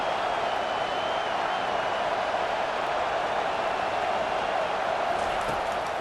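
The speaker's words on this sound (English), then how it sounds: "Here comes this home crowd as the defense tries to get off the field on 3rd down." Steady roar of a home stadium crowd in EA Sports College Football 25 as the defense tries to get off the field on third down, a constant broadband wash at even loudness with no voices.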